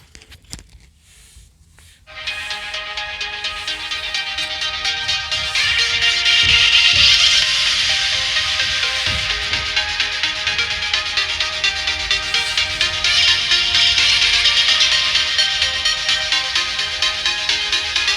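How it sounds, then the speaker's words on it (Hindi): A song plays through Infinix iRocker 2 XE18 true wireless earphones, a steady bright musical track starting after about two seconds of near silence and continuing evenly, no talking. "तो मैं यहाँ पे सॉन्ग प्ले करूँगा तो आप चेक कीजिएगा।"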